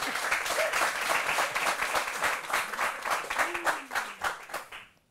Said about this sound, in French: dès que le public va être prêt pour te recevoir, ils vont t'applaudir